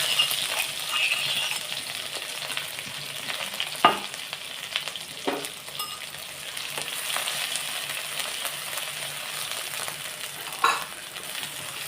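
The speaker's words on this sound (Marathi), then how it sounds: "मोहरी तडतडली जिरे टाकूया तर थोडा कढीपत्ता टाकूया" Mustard seeds, cumin and curry leaves sizzle in hot oil as a tempering for Maharashtrian dahi kadhi: steady close crackling throughout, with a few sharper pops standing out.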